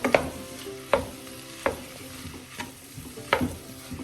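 Vegetables with egg and a dash of soy sauce are stirred and sautéed in a pan for vegetable rice. Sharp spatula scrapes come roughly once a second over a soft, continuous sizzle.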